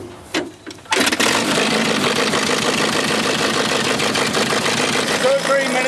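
A vintage tractor engine on a wartime-era farm coughs through a few brief attempts, then starts and settles into a loud, steady, close idle, with a voice talking over it.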